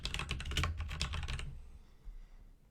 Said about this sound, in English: right here, I'm going to type in forward brands.